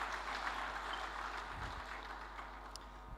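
Faint, steady applause from an audience at a national summit on alternative dispute resolution, a dense patter of clapping sustained throughout without speech.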